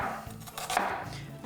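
A knife chops through an onion on a board for a taco-style shepherd's pie, giving a short run of close, crisp cuts with no one talking.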